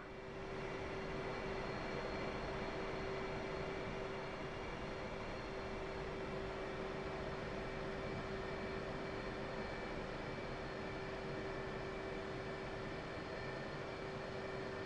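A fighter jet in DCS World rolls down the runway at full throttle with a little afterburner on takeoff, giving a steady, unbroken roar with a constant whine and no voices.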